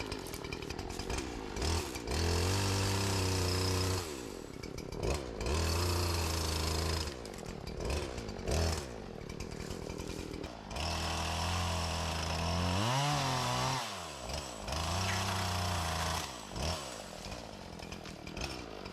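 Chainsaw bucking fallen trees into logs while clearing the Pinnacle Mountain Overlook access trail, engine surging loudly and close in repeated cuts with brief idling dips between them, and no talk.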